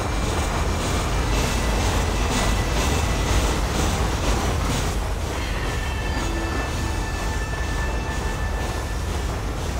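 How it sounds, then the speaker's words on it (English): A train ride in the video game Red Dead Redemption gives a continuous rumbling, rattling roll of railcars. It holds steady for the whole stretch with a faint high whine partway through. "That whole train ride. You like trains, I guess."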